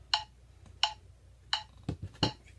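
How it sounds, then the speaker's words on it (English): Metronome app on a phone ticking in a steady beat, with four sharp, bright clicks spaced roughly 0.7 seconds apart and a couple of softer, lower thumps near the end. "Let me see if I can get a metronome going."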